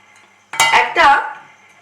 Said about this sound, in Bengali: এবার যে দুধটার মধ্যে দইটা মিশিয়ে দিলাম সেটা আমি এই পাত্রে ঢেলে দিচ্ছি।